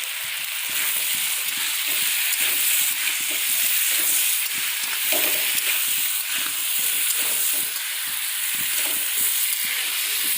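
Pumpkin pieces fry in a pan with added spices and chili powder, giving a steady, close sizzle with a soft hiss and occasional stirring, no voices.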